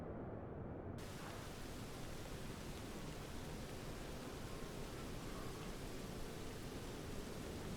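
Steady, dense rain hiss in Microsoft Flight Simulator at Berlin-Tegel airport, even and unbroken, like heavy rainfall heard from nearby with no other sounds.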